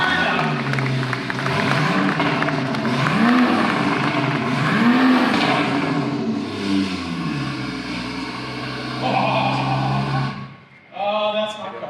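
A Toyota GR Supra Hyperboost Edition at a SEMA Show press event starts and revs loudly, its engine roaring up and down in several swells, with crowd cheering and voices mixed in.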